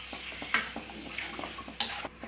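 Chicken sizzles uncovered in a pan over a high flame while cooking for a chicken pulao, with a steady crackling fry and a few sharp stirring scrapes.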